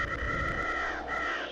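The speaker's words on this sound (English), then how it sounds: "Those crows." Crows caw in the Disney Infinity 2.0 Toy Box game: two drawn-out, fairly faint calls over a low background rumble.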